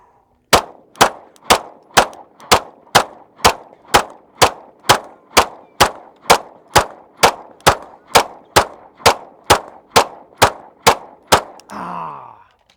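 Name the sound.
handgun shots fired at targets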